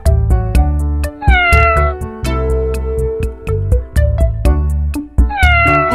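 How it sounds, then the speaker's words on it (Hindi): Several cat meows follow one another over about six seconds, loud and close, some drawn out and rising, others short, with no talking. "And cat says."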